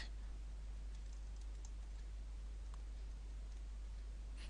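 Someone types an answer on a computer keyboard, faint scattered key clicks over a low steady hum and background hiss.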